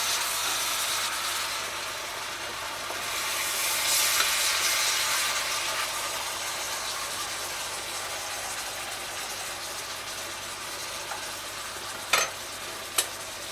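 Honey glazed pork chops sizzle and fry in a pan, a steady close hiss of hot fat with a brief swell midway and two sharp clicks near the end.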